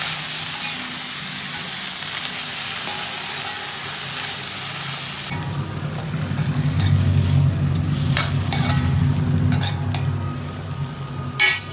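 Fresh coriander leaves get stirred and turned twice in a hot pan with the stove switched off, giving a steady, close scraping and soft residual sizzle that swells midway and continues alone with occasional utensil clinks.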